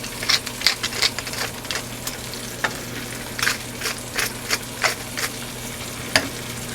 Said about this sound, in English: So when you sear the cheeks,